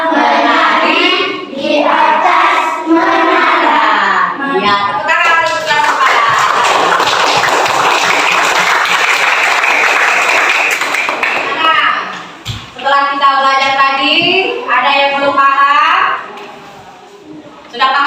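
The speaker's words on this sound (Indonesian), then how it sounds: "tepuk tangan untuk kelas kepala" A classroom of students claps together for a few seconds, dense and loud, between stretches of a teacher talking and children speaking.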